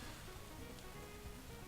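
Rain from the Rain Dance move in a Pokémon video game patters steadily, a soft continuous hiss of falling drops at low volume with no voices.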